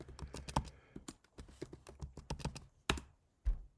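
Rapid keystrokes on a computer keyboard as a password is entered, a close, uneven run of clicks and taps with a couple of louder key presses near the end.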